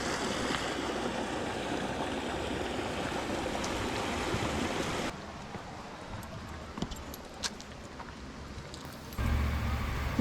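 Rushing stream water at the base of the waterfall at Amicalola Falls State Park, a steady broadband wash that continues throughout, close and fairly loud, with no talking.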